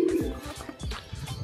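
Soft, low cooing of a racing pigeon arriving at its loft, close by, with faint fluttering and rustling around it.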